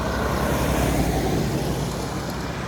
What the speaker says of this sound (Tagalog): So may mga sasakyan dito,